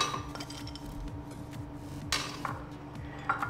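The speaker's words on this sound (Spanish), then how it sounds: "Vamos a comenzar colocando hielo en la licuadora." Ice cubes dropped into a blender jar for a low-carb shake, a few sharp glassy clinks and rattles over a low hum, close and fairly quiet.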